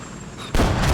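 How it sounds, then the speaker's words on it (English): A helicopter goes down in a desert combat video game, a sudden loud crashing boom breaking in midway after quieter battle noise. "Helicopter goes down"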